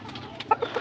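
A captured red jungle fowl (labuyo) gives a few quick, close clucks over quiet background noise.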